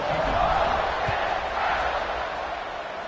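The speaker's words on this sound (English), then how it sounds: "this crowd is buzzing after that last score" A college football rivalry game crowd at Penn buzzes loudly after a score, a dense, steady roar of many voices filling the stadium throughout.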